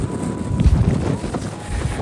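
Strong mountain wind batters a phone microphone on Kamen Del peak at 1862 metres, a steady low buffeting rumble with gusty surges and no other clear sound.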